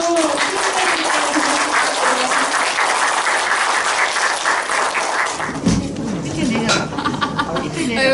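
Audience clapping at a talk in a Seoul hall, a full steady round that thins out after about five seconds as people begin speaking over the remaining claps.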